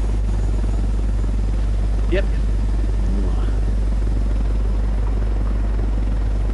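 Helicopter in the video game Ghost Recon Wildlands, its steady loud rotor and engine drone filling the scene throughout while someone speaks briefly over it.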